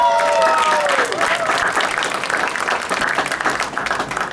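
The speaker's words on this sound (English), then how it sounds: "Can we give them a round of applause?" Applause from an audience at a high school marching band end-of-camp show, a steady dense round of clapping that fades slightly over a few seconds, with a brief musical tone at the start.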